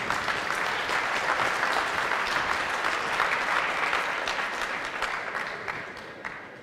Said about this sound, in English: So I would like to ask you to give a round of applause to everyone here